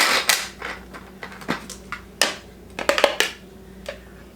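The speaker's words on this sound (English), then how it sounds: "I'm going to chop my onions right" Onions being chopped on a board in a kitchen, a series of irregular sharp knife strikes, close and moderately loud, with no talking.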